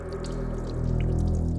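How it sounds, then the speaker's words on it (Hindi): Water running in a bathroom, a steady hissing flow with small droplet and splash sounds, heard fairly close and continuous with no talk. "बाथरूम में पानी बहने की आवाज आ रही है।"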